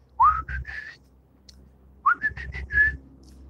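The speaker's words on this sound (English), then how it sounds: "I can't whistle like I used to." Someone whistles two short phrases, each opening with an upward swoop and followed by a few held notes, separated by a brief pause, close and alone in a quiet room.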